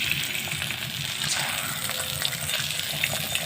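Beaten egg hits hot oil in a pan and sets off a continuous hissing sizzle, steady and fairly close, with no voices over it.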